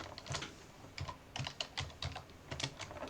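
Keys clatter in quick irregular bursts as someone types in Notepad on a computer keyboard, close and moderately loud with short pauses between flurries and no talking.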